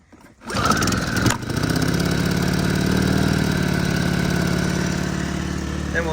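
A small engine, started with choke to charge the batteries of a Case 580CK backhoe, catches after a short crank and settles into a loud, close, steady putter.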